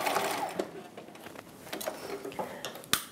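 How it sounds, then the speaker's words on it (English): A sewing machine backstitches a seam on the bodice of a 1950s halter dress, its rapid ticking mechanical run steady and close for about three seconds, ending in one sharp click. "And backstitch again at the end."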